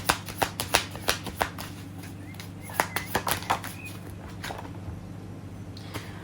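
Tarot cards are shuffled close by in a quick run of crisp riffling flutters and slaps, several bursts in a row, trailing off into softer, sparse card taps; no talking.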